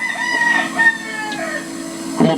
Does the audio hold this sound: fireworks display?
no